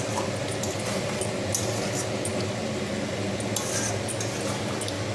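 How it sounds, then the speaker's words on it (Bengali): Meat braising in a pot, stirred as it cooks down, gives a steady close sizzle and bubbling with soft squishing and occasional scrapes of a utensil against the pot. "মাংস এখনও কষছে, কষানো প্রায় হয়ে এসেছে"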